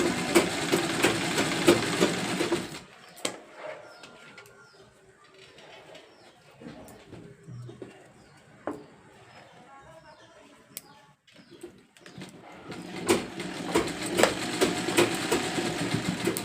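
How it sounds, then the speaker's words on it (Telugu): A sewing machine stitches a straight seam along a marked line on blouse fabric, running in steady, close bursts at the start and again near the end with a quieter pause between. "ఇప్పుడు ఇదే గీత మీద కుట్టేసి రావాలి. ఇలా ముసుగా కుట్టుకొని స్ట్రైట్గా"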